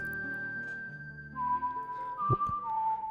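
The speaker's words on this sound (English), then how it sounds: "Is she just whistling?" A whistled lullaby melody from the video game Zelda: Ocarina of Time, a clear held tone stepping between a few pitches over soft background music, loud and close.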